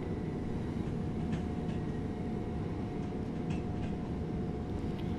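Passenger train with a built-in cab running in Train Sim World 2020 on a southern route, a continuous low rolling rumble with faint clicks, steady and moderately quiet, no talk.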